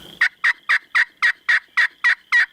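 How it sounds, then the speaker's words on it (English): Wild turkey longbeard gobblers on a hillside gobble in a loud, close, rapid run of about nine evenly spaced rattling notes, with no speech. "birds on that hillside, and I'm not too sure they're not all longbeards"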